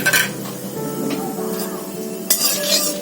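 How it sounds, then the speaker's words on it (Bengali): Whole spices, cumin, cardamom, cinnamon, bay leaf and dried red chilli, tempering in hot oil, with a soft continuous sizzle, light clinks of a spoon against the pan and a brief louder stir near the end. "একটা ছোট এলাচ, এই যে ছোট এলাচ দিলাম, দারচিনি, তেজপাতা, আর একটু শুকনো লঙ্কা ফোড়ন দিলাম গোটা।"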